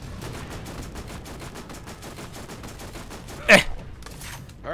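Rapid automatic turret fire from the Borderlands video game rattles in a steady stream of shots, broken by one sharper, louder blast partway through.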